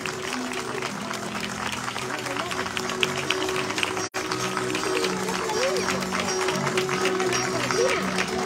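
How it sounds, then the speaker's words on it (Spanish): Crowd applause for participants in a Fiestas Patrias parade in Champa, steady clapping from many people filling the whole stretch, with a loudspeaker voice and music tones running beneath it and a brief dropout midway. "Aplauso para cada uno de ellos."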